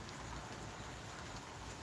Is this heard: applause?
no